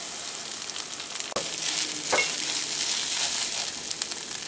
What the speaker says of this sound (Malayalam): ഈ തേങ്ങ നമുക്ക് നല്ല ചുമക്കെ വറുത്തെടുക്കാം